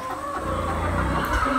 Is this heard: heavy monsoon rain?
no